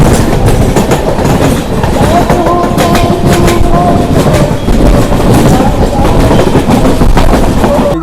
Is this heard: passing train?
yes